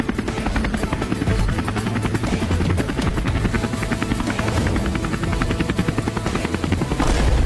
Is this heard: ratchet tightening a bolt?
no